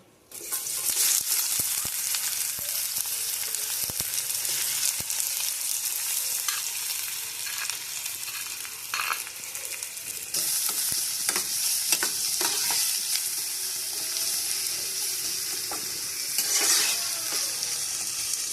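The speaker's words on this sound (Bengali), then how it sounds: "এবার তেল দিয়ে এর মধ্যে আমি দেবো পেঁয়াজ আর রসুন কুচি দিয়ে আমি একটু লাল লাল করে ভেজে নেব।" Chopped onion and garlic fry in hot oil, being browned slowly for a Bengali egg paturi; a loud continuous sizzle with occasional scraping stirs, close and without talk.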